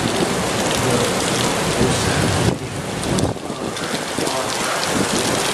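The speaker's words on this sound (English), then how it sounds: "Look at the hail." Pea-sized hail and heavy rain pour down during a severe thunderstorm in Mineola, a loud, dense, steady hiss and clatter that dips briefly midway, with no voices.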